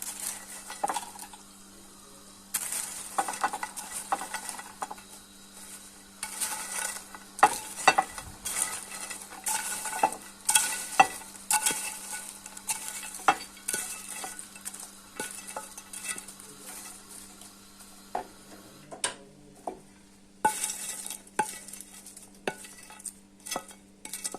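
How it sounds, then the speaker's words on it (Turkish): Butter sizzles in a pan as bread pieces fry while a utensil repeatedly scrapes and stirs, producing irregular clinks and taps over a steady frying hiss. "ekmeklerimi tavamın içerisine koyarak tereyağını da biraz karıştıracağım"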